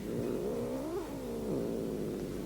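A cat meows in a long, drawn-out, wavering cry that rises and falls, close and clear, holding for a couple of seconds with no talk over it.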